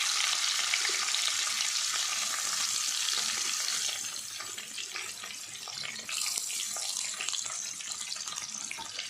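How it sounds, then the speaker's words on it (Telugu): Sliced onions fry in hot oil for chicken biryani, a steady, dense sizzling hiss that continues throughout, close and fairly loud, with faint stirring underneath. "మనం స్లైస్ చేసి పెట్టుకున్న ఆనియన్స్ కూడా వేసేద్దాం."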